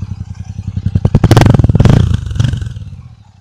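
A Royal Enfield 650 motorcycle engine thumps in rapid pulses that quicken into a loud rev, then settle back toward idle, heard close up and alone.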